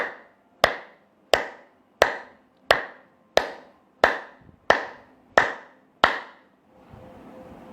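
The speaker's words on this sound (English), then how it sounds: "But when you clap, ensure that all these points meet." Nine sharp hand claps in an even rhythm roughly every two-thirds of a second, each ringing briefly in a room, followed by a soft rubbing hiss at the end; no talking.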